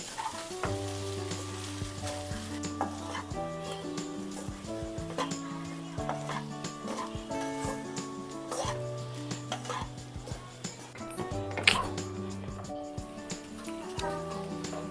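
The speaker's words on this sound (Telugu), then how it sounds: "ఇవన్నిటిని కలుపుకుందాం మంచిగా." Egg fried rice with salt, pepper powder, chicken masala and garam masala is stirred in a sizzling pan, with scattered scraping clicks under steady background music.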